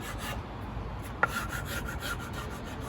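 Burnishing material down by hand during an electric guitar build, a soft continuous rubbing scrape close up and fairly quiet, with one brief sharper tap.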